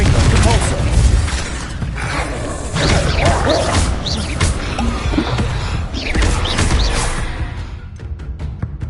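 Confringo fire-blast spell explosion in the Hogwarts Legacy video game, a dense loud rumbling blast with whooshes and crashes sustained over several seconds, ending in a series of sharp rapid clicks; a voice speaks briefly amid the noise.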